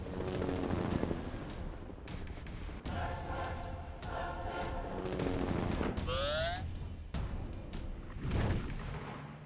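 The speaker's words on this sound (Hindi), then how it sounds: "वो लेजर बीम से फायर कर रहे हैं।" Cartoon robot toys firing laser beams, with loud bursts, rapid zapping shots and a rising laser sweep over a dense, busy action soundtrack.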